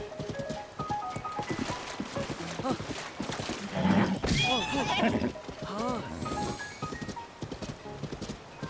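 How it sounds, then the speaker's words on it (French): A horse in the video game Zelda: Tears of the Kingdom clip-clops along, then gives a loud whinny midway, with hoofbeats continuing and someone talking over much of it. "voilà un cheval magnifique"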